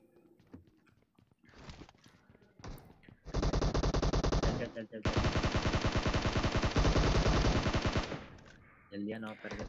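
Gunfire in the mobile battle-royale game PUBG Mobile played on an iPad: scattered single shots, then two long loud bursts of rapid automatic fire, close and dense, with a few more shots at the end.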